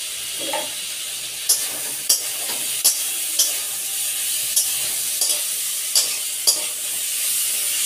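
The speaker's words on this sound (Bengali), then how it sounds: "এটা একটু ভালো করে কষে নেব 2-3 মিনিট, তারপর আমি জল দিয়ে দেবো" Spiced fish curry with green chillies and a pinch of sugar sautéing in a pan for a carp-and-green-banana stew, a steady sizzle broken by sharp spatula scrapes and stirs at irregular intervals, close and without talk.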